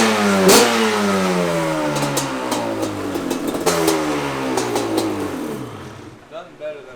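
A loud motorcycle engine with Toomey exhaust pipes revs up hard, the pitch climbing and falling through several throttle blips before dropping to a quieter idle.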